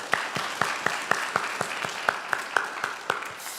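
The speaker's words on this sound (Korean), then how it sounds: "우리 같이 헌신하고 수고하신 모든 분들께 한번 박수 한번 했으면 좋겠습니다" A church congregation at a Sunday worship service applauds together, clapping in a steady, even rhythm for several seconds with no talking.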